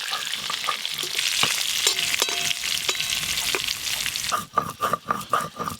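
Sweet potato pieces sizzle steadily in hot oil in a pan, cooked village-style for chicken curry; near and continuous, ending in a run of sharp stirring and scraping clatters.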